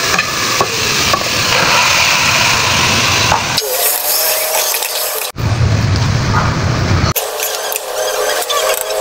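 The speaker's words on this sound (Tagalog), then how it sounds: "Bigyan natin ng isang container na tubig." Water poured from a container into a pot of chicken stew with tomatoes splashes and hisses in loud bursts, broken by short quieter gaps, with stirring and sizzling from the hot pot.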